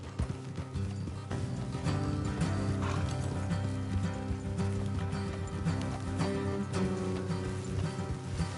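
Horses in a PS4 video game, steady clip-clop of hooves at a trot with occasional whinnies, continuous and fairly close over a low game soundtrack bed.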